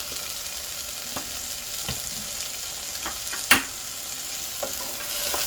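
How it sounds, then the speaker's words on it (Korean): Rice and dried pollock stir-fry in a pan with sesame and perilla oil for zucchini pollock porridge, giving a soft continuous sizzle broken by occasional scraping stirs of the spoon. "쌀하고 북어하고 참기름, 들기름 뭐 이런 것들이 들어가서 달달달달 볶아지고 있습니다"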